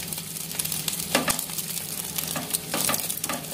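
Bread slices frying in a pan give off a steady close sizzle, broken by a few sharp scraping and clattering bursts as they are moved and flipped, with no talking.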